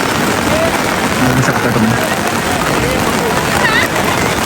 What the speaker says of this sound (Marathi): कारण की पाऊस खूप येऊन राहिलेला आहे.